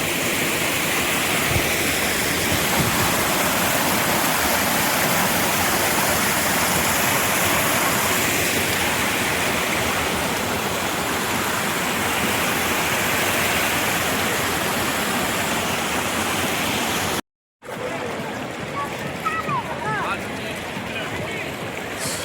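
Water rushes loudly and continuously at a waterfall near a coffee factory in Chaprai, with a roaring broadband wash that breaks briefly near the end before resuming, and people talking now and then over it.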